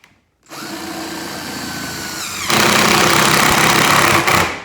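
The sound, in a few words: drill driving screws into metal beehive top cover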